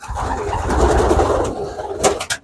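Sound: pigeons cooing

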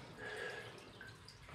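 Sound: water dripping in old trough

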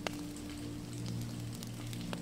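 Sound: rain splattering on a pond

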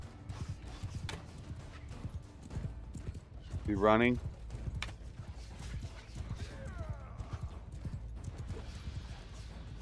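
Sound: horses galloping in video game Mount & Blade Bannerlord

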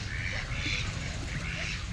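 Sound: Muscovy ducks quacking

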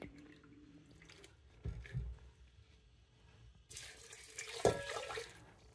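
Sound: pouring water from a mug into a multicooker for oatmeal

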